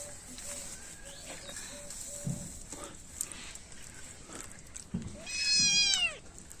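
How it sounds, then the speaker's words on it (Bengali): A cat gives a few short, faint meows, then one louder, drawn-out meow near the end, with light background noise in between. "বিড়ালে পাগল হয়ে গেছে"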